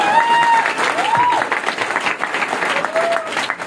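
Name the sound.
loud applause from the audience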